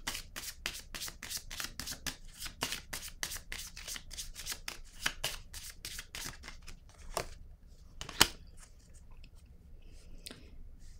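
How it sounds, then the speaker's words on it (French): Tarot cards are shuffled in a quick, even run of crisp riffling flicks, close and clear, followed by a pause and a single sharp snap as a card is drawn, with softer handling rustles after. "je vais piger une autre carte"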